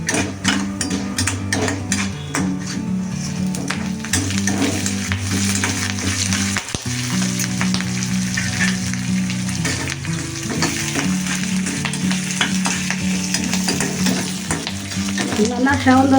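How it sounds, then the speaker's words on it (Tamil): Mustard seeds, urad dal and dried red chillies fry in hot oil for Indian coconut rice, giving a steady, dense crackle and sizzle that runs the whole time with music playing alongside. "கடுகு, உளுத்தம்பருப்பு, வரமிளகாயை வறுத்துக்கணும்."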